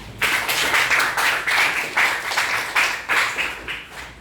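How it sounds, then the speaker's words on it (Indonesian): A small class claps for a few seconds, the claps coming in uneven bursts at a moderate level, with no one speaking. "tepuk tangan untuk Raja"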